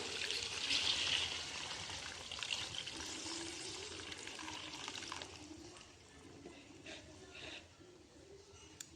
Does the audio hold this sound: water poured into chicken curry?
yes